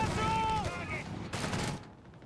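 A .30 cal machine gun fires in Company of Heroes 3: a brief rattling burst of rapid shots and a second short volley, heard under a voice talking in the first half and fading out at the end.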